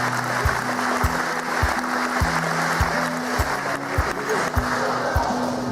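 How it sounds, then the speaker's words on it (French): An audience at a 70th-anniversary speech applauds, giving a steady patter of clapping hands heard against a repeating low-pitched tonal pattern in the background. "Je pense qu'on peut les applaudir."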